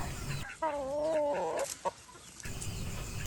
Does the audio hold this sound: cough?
no